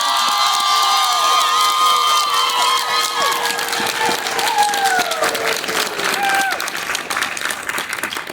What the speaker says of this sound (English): I want to hear everybody cheer so that they know thanks from you as well.